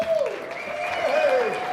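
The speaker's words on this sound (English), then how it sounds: "Let's have a nice round of applause for Robert Park." Applause from a banquet crowd at a drag racing hall of fame gala night, a short burst of clapping threaded with high whistles or cheering tones that rise and fall above the hand noise.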